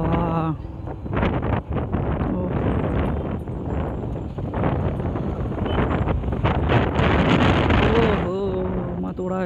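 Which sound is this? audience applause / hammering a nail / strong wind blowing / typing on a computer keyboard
strong wind blowing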